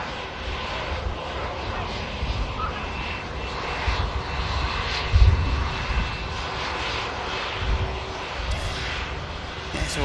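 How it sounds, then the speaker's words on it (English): TUI airliner jet engines roaring on departure from Manchester Airport runway 23 left, a steady broad rumble that swells slightly midway, heard from a distance, with faint talk underneath. "Should be the next heavy departure from 23 left."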